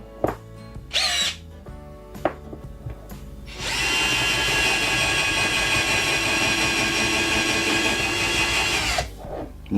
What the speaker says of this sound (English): but yes, I'm applying drill mode.